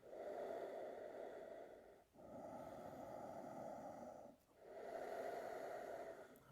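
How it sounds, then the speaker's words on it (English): Smooth, even Ujjayi breathing through the nose during an Ashtanga yoga practice: three long, audible, throaty breaths with brief pauses between them, close and soft. "Smooth, even Ujjayi breathing."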